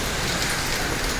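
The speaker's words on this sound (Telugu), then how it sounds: "ఫుల్ మబ్బులు మేఘాలు అయితే కలుసుకొని వర్షం అయితే పడతా ఉంది" Heavy rain with hail in Kamareddy, a thick, continuous roar of pounding drops that sounds loud and close throughout.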